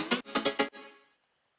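A bright synth layer built in Serum plays three or four loud sustained notes rich in high overtones, then rings out and fades, with two faint high blips near the end and a brief final hit.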